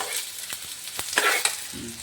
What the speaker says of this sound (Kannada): ಈಗ ಇದನ್ನೆಲ್ಲ ಚೆನ್ನಾಗಿ ಫ್ರೈ ಮಾಡ್ಕೊಳ್ಳೋಣ ಗಾಯ್ಸ್.